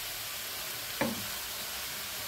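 Shredded cabbage frying in a pan with a steady, loud sizzle throughout, broken once by a single short scrape or clatter as it is stirred.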